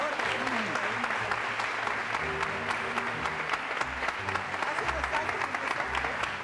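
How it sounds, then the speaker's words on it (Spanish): A studio audience applauds Argentine models on a television talk show, a dense, steady roar of many clapping hands. A voice can be heard under the clapping. "Un aplauso para estas bellezas argentinas, por favor."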